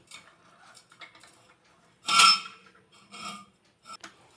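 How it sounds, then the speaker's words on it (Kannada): Steamed rice dough balls are pressed through a metal shavige mould, making a few separate scraping, clinking metal bursts with short quiet gaps between them, close and fairly loud. "ಆ ಅಕ್ಕಿ ಹಿಟ್ಟಿನ ಉಂಡೆಗಳನ್ನು ಅಚ್ಚಿನಲ್ಲಿ ಹಾಕಿ ಒತ್ತಬೇಕು"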